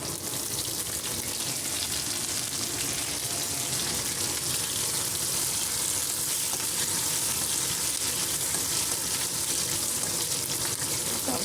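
Curry leaves and dried red chilies crackle and sizzle in hot oil for a tempering, a dense, continuous frying hiss heard close up with no talking.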